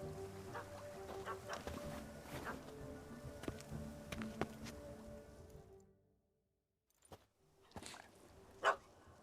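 Dog barking in The Witcher 3: Hearts of Stone, a few sharp barks set against game ambience and music, followed by a near-silent gap and then isolated louder barks near the end.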